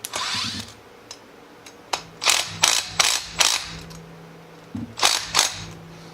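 A ratchet tightening the primary clutch bolts on a Can-Am X3, quick bursts of sharp clicking in a rhythmic series of strokes with short pauses between, close and clear.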